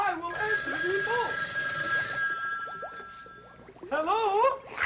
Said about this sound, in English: Oh, the phone is ringing. I will answer the phone.